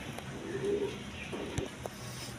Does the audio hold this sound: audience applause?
no